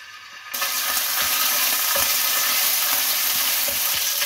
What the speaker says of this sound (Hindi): एक फ्राई पैन में 3 टेबलस्पून ऑयल डालें। जब ऑयल हल्का सा गर्म हो तो 1 टीस्पून लहसुन अदरक पेस्ट वो डाल दें इसमें